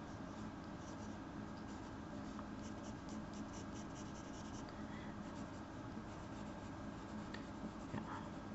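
A pencil drawing on Canson C'a'Grain 240 gsm paper makes a continuous faint scratchy rasp of graphite strokes, steady and close, with quiet room noise underneath.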